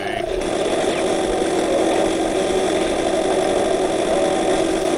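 A chainsaw in the first-person shooter Brutal Doom 2 drones steadily at a loud, buzzing idle rev throughout, close and continuous with no pauses.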